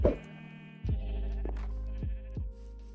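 Several sheep bleats from a Minecraft farm, each a short wavering cry with a sharp onset, spaced out over a few seconds against a steady low game-ambience hum, with no talking.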